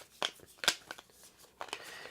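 Role tokens for the Don't Mess wit Cthulhu board game being shuffled by hand, a few soft, brief clicks and rustles close by and quiet.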